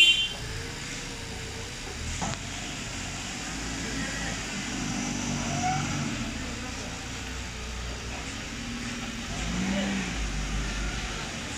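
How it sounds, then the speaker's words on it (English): A vehicle drives steadily while carrying a stretch-wrapped pallet load, its mid-pitched engine humming continuously with slight revving swells, and people talking over it. "Go drive the whole way and come back."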